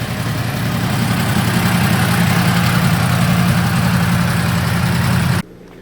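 A Yamaha R1M motorcycle engine idles steadily and loudly at close range after an oil change, a constant low throbbing drone that cuts off sharply near the end.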